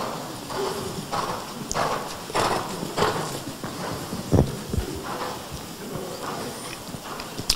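Horse hooves clip-clopping at a steady rhythm on arena footing during a dressage riding lesson in Hamburg, moderately close with a faint background.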